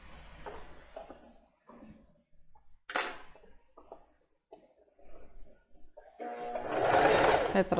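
A domestic sewing machine backstitches at the start of a seam on cotton fabric for a plus-size panty, with short bursts of stitching and handling noises, ending in a louder, sustained run.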